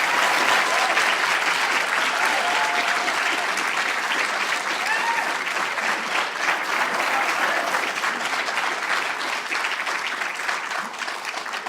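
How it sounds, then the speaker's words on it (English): A chapel audience claps and cheers loudly for about twelve seconds. The applause is dense and sustained and fades slightly near the end. "give God the loudest praise and clap you can give Him right now"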